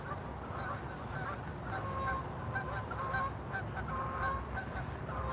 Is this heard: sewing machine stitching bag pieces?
no